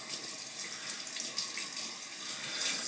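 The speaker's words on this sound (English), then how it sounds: "And then we'll wet the brush through." Steady tap water runs from a faucet to wet a shaving brush, a continuous close hiss and splash at the sink with no one talking.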